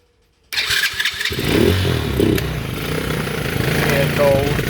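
A cold Chinese four-wheeler ATV, long left sitting with old gas, cranks on its electric starter and catches, then runs with a steady rough engine note close by.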